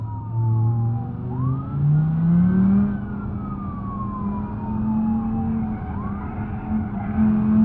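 Racing cars in the video game BeamNG.drive roar with rising and falling engine pitch, while tyres screech and a siren-like whine sweeps through, in a continuous loud soundscape.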